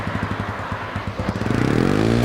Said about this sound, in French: J'essaye le moteur.